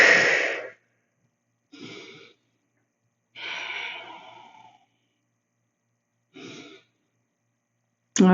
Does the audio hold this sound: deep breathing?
yes